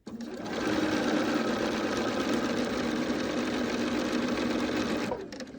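A domestic sewing machine stitches bias binding fabric, running in one continuous steady whir for about five seconds, close and alone, with no talking.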